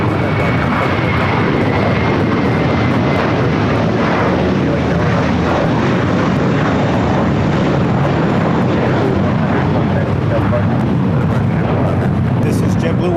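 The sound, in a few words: JetBlue Airbus A321 jet departing for Fort Lauderdale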